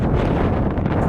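Strong wind buffeting a microphone at Hverfjall volcano crater in Iceland, a loud, continuous low roar and rumble with no break and no talking.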